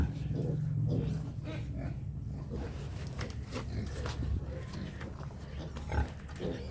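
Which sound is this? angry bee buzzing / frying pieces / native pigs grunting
native pigs grunting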